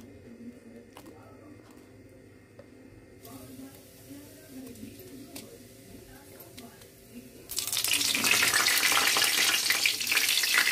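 Bitter gourd, carrot and beans hit hot oil in a pan, giving a sudden loud steady sizzle after quieter stirring and handling noises, with a voice talking early on.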